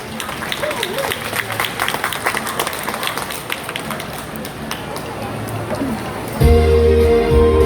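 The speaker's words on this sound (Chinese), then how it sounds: "掌声鼓励。" An audience at a theatre performance during a Hakka cultural expo claps, scattered and crackling hand claps continuing for several seconds before a louder, tonal sound cuts in near the end.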